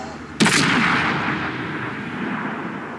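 A single tank gun shot in World of Tanks: one loud, sharp cannon blast followed by a long rumbling tail that fades over a few seconds, with no talking.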